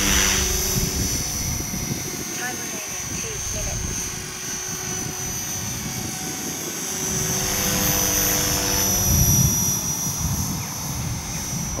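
An Align T-Rex 470LP radio-controlled helicopter running on a 6S battery hovers and flies nearby, its rotor whine and buzz steady and loud, with a person talking over it.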